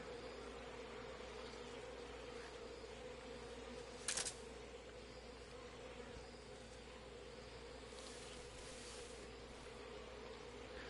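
Bees droning around a hive in the stealth game Metal Gear Solid Delta, a steady faint buzzing hum that stays constant throughout, with one brief rustling burst partway through.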